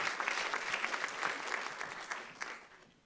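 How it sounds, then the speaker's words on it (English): An art college audience applauds volunteers, brisk clapping that starts full and gradually tapers off, moderately near with no speech over it. "Round of applause from our audience volunteers."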